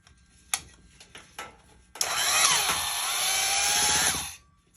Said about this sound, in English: then we use this ray gun looking electric drill